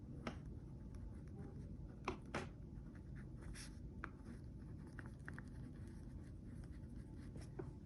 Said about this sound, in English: that's where I'm gonna start writing my name